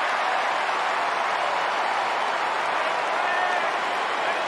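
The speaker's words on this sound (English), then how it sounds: "To a massive round of applause" Dense, continuous crowd applause at the MCG during a football match, a loud, even roar of clapping and cheering from a large stadium crowd holding steady throughout.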